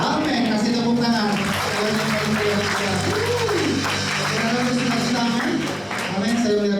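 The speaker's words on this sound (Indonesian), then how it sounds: "Kasih tepuk tangan." A church congregation claps through a worship service, a continuous wash of applause sitting under a voice that speaks or sings over it at steady loudness.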